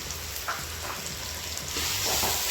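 Onions sautéing in a pan for chicken biryani, a steady close sizzle with occasional stirring scrapes and small crackles, growing slightly louder toward the end.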